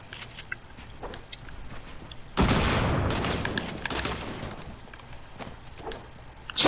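Rapid bursts of video game gunfire crackle in a dense, sustained volley that starts abruptly midway and runs on at steady loudness, with quieter scattered shots and clatter before it.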